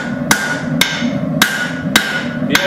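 Hot metal being hammered on the edge of an anvil while forging tongs, five sharp ringing blows spaced roughly half a second apart, close and loud, each leaving a brief metallic ring.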